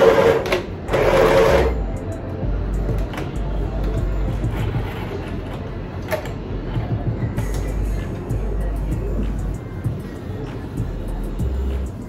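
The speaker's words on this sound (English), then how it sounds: "I'm gonna take this, I'm gonna sew it inside out." A sewing machine stitches fabric panels for thigh-high boots, running in a steady rapid whir for most of the stretch after a couple of brief pauses at the start, close and fairly loud.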